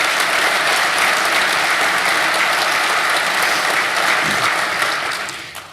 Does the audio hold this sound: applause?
yes